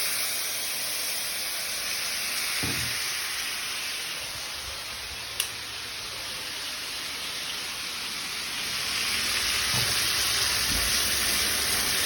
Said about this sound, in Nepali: अब आलु फ्राई गर्नु पर्यो हजुर